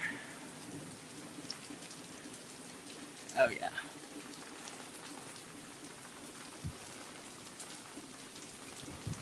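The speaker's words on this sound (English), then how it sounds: "Got a nice little bit of thunder there." Thunderstorm with heavy wind and rain, heard as a steady broadband hiss of rain and gusts with a brief low rumble. Someone speaks briefly partway through.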